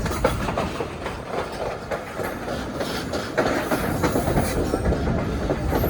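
A Pakistan Railway railcar train runs on the tracks with a loud, steady rumble and rhythmic clickety-clack of wheels that swells slightly toward the end, and no voices are heard.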